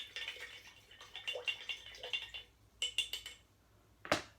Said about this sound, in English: Can you hear that splashing sound?